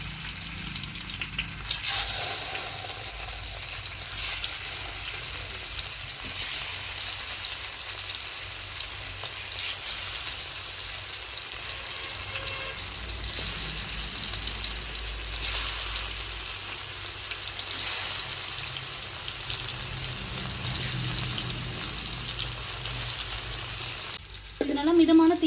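Sardines fry in oil in a kadai, a sustained close hiss that swells and eases over a long stretch, with a louder clatter near the end.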